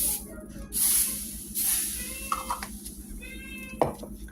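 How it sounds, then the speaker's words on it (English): Cooking oil spray hisses onto a pan for pancakes in a home kitchen, two short bursts standing out close over a faint, steady room background. "I'm going to spray this with a little bit of oil"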